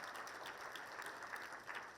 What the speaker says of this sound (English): A round of applause for all our sponsors.